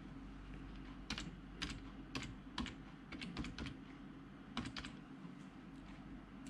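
Fingers tap a computer keyboard in soft, uneven bursts of keystrokes, quiet and close, over a low background hum with no talking.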